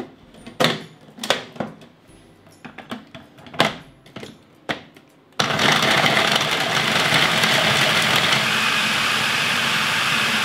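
Philips HR7627 food processor finely chopping garlic: several sharp separate knocks and clatters, then the motor starts with a loud, steady whirring drone that runs on without pause.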